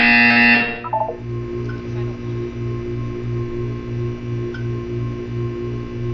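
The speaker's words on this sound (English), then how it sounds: "You will hear a buzzer." Buzzer in the Portal 2 video game, a sharp electronic tone at the start followed by a steady pulsing low buzz that repeats evenly for several seconds.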